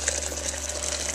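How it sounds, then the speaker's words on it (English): Boiling water pours steadily into an emptied malt extract tin for Muntons Connoisseurs Nut Brown Ale, a continuous close gushing and filling sound with a low steady hum beneath, no speech. "Now let's add some hot water. Right, so boiling water,"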